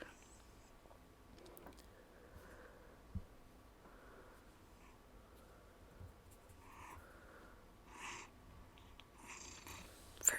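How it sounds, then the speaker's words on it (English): A cat purrs softly and close by in a low, rumbling rhythm, with a few faint bumps and rustles around it. "if you can hear my cat purring"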